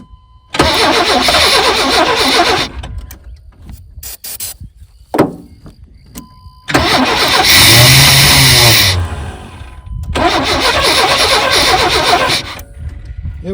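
Mini squarebody truck engine cranks in three loud, sustained bursts of starter grind, with short quiet gaps between them and a brief clunk in the middle, but it never catches and runs.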